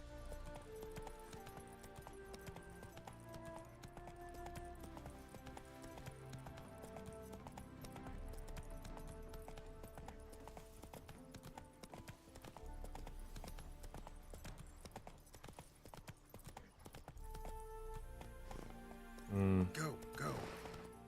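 Horse hooves gallop in The Witcher 3 video game in a rhythmic clip-clop beneath a prominent musical score, with a sudden louder thud near the end.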